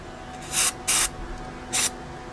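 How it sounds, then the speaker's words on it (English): Throttle body and air intake cleaner sprayed from an aerosol can on a 2003 Mazda Tribute V6, three short sharp hissing bursts, the last slightly longer, close up with no talk. "So I'm just gonna spray it in here, kind of leave it, see what I can get."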